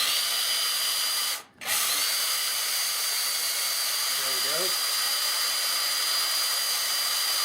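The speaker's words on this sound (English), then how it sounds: "Now you notice I'm drilling out the back hole here." A drill bit boring out a stripped screw hole in a wooden gun stock, a steady high whine running throughout with a brief dropout partway through, close and fairly loud.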